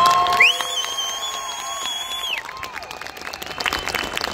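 A crowd applauds and cheers at a motorcycle stunt show at a Wrocław motorcycle fair, with loud, sustained clapping mixed with a steady electronic tone that cuts out partway through.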